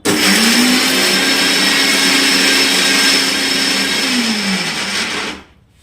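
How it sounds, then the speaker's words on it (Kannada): A mixer grinder whirs steadily and loud, finely grinding amla (Indian gooseberry) with chilli and salt, its motor pitch rising at the start and dipping near the end before it stops abruptly into silence. "ಇವಾಗ ನಾನು ಇದನ್ನು ಎಷ್ಟು ಸಾಧ್ಯ ಆಗುತ್ತೆ ಅಷ್ಟು ನುಣ್ಣಗೆ ರುಬ್ಕೊಳ್ತೀನಿ"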